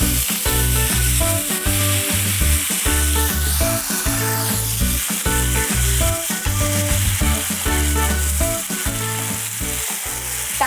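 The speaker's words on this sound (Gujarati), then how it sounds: "રાઈ થઈ જાય એટલે આપણે ટમેટાની જે પ્યોરી બનાવેલી છે એ એડ કરી દઈશું" Tomato puree hitting hot oil with popped mustard seeds, a loud, steady, close sizzle and frying crackle that continues throughout with no talking.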